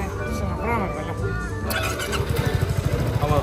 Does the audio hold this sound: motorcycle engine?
yes